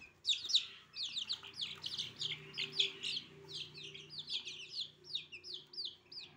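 Native chicken chicks chirping in a steady stream of high, rapid peeps, several birds calling over one another at close range without pause, with a faint low hum underneath.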